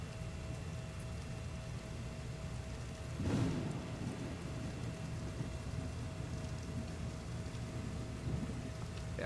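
Thunder in the video game ARK: one low rumbling roll of distant thunder rises briefly over a steady bed of rain noise, with no talk.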